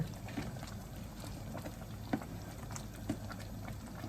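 Sago pearls and corn simmer in coconut milk in a pot, a steady low bubbling with a few soft pops and clinks throughout, close and fairly quiet.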